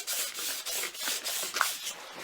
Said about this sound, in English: I'm just going to nice and slowly, evenly sand down all the way around the gearing